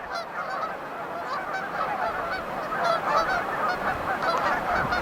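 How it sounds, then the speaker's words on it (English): A dense chorus of honking tundra swan calls, many birds overlapping continuously at moderate distance with no voices. "looks like swans to me"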